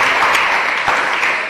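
A crowd at a church gathering in Sassandra claps for Anne, a loud, steady wash of applause close by that holds at even strength without pause.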